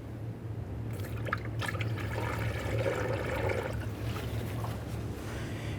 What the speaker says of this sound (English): We'll put in a little bit more brand new coolant and we'll let it burp out in the system.